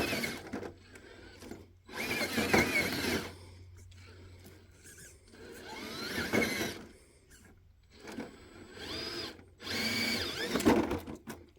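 A Cross RC NT4 crawler's electric motor whines in strained bursts while climbing a steep hill with little traction, the high buzzing rising and cutting out several times with brief pauses between.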